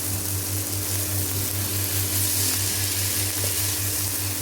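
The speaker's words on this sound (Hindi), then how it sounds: "तो अब हम इसको बस 1 से 2 मिनट इसको और फ्राई कर लेते हैं तेज़ आंच करके" Chicken steam roast fries over high heat in a pan, a steady, loud, hissing sizzle with a constant low hum underneath and no speech.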